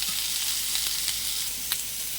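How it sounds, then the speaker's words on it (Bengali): Potato pieces sizzling as they fry in oil in a pan, a steady bright crackle with a few sharper pops and light stirring, no voices. "আলু এদিকে ভাজা যাচ্ছে"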